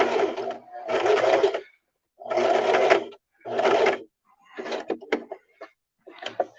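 A sewing machine stitches a skirt side seam in several short, loud bursts of rapid whirring, separated by brief pauses, ending with lighter intermittent clicks.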